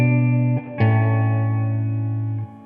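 Sustained electric guitar notes through a Blackstar Dept. 10 AMPED 2 plate reverb ring out with a lush, shimmering tail; a second chord is struck and decays slowly.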